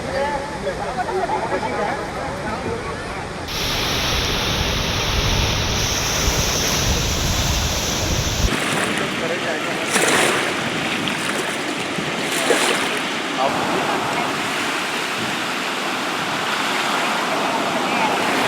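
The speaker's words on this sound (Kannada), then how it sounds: "ಮೈದುಂಬಿ ಬೋರ್ಗರಿತಾ ಇದೆ ಗೋಕಾಕ್ ಜಲಪಾತ" Gokak waterfall in flood roars as a steady, loud wash of rushing water, continuous throughout with shifts in tone between shots and no break in the torrent.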